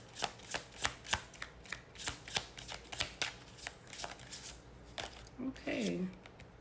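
Healing cards shuffled by hand in a quick rhythmic series of crisp riffles and flutters, close and clear, with a voice speaking near the end.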